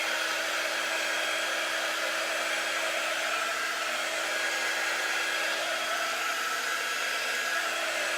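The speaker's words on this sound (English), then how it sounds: "I'm going to heat the wax up on my board a little bit." A heating device, likely a heat gun, warms wax on a wooden cut-out board, giving a steady, loud, continuous blowing hum with a constant whine and no talk.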